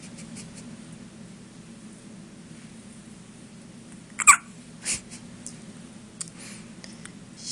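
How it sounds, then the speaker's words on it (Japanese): A baby hiccups after drinking milk too fast, with one sharp hiccup standing out above a steady low hiss and a few fainter follow-up sounds, quiet and close. "ミルクを急に飲みすぎてしゃっくりが始まってしまいました"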